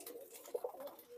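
Dark pigeons kept by a Jammu fancier coo softly in a short, faint burst, a few low rounded notes with no talk over them.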